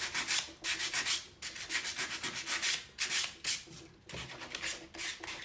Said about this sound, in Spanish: Pero bueno, para eso hay que lijar bien esto